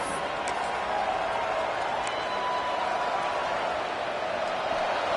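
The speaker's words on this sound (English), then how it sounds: "This crowd busting the decibel meter and trying to will a 4th down stop." A packed football stadium roars during a Tennessee Vols game, a loud, unbroken wall of crowd noise with a few sharp whistles and shouts poking through.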